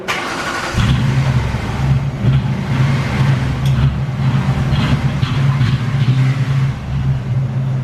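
Supercharged Ford Crown Victoria with a five-speed swap runs loudly after a brief quiet start, its steady low engine rumble holding throughout as the car makes its first move under its own power.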